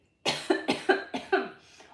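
A woman coughs six times in a quick, rough series, each burst sharp and close, tapering off toward the end.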